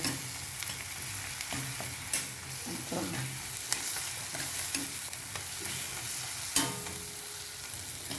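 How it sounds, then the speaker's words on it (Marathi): Spices, tomato and masoor dal tadka base stir-fried in a hot pan, a steady close sizzle broken by irregular scraping stirs and a few sharp utensil knocks, with no talking. "सगळे टाकून झाल्यानंतर मी परत त्याला चांगले मिक्स करून त्याला चांगले परतून घेणार"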